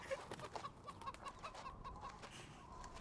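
A chicken clucks in a quick, steady run of soft, evenly spaced notes, fairly close but not loud, over a noisy background with no voices.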